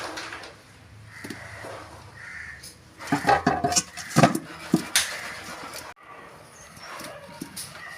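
Fresh palmyra sprouts dropped into a cooking pot, giving a burst of clattering knocks and thuds of the stiff sprouts against the vessel, with quieter shuffling before and after and faint outdoor bird calls.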